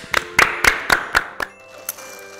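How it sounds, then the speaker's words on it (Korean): A short round of hand clapping, about six sharp claps in a steady rhythm that trails off, close and fairly loud, with one faint extra clap after a pause, during a Dior holiday advent calendar gift unboxing. "디올에게 박수 한번 쳐드릴게요"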